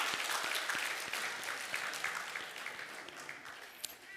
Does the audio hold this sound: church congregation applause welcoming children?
yes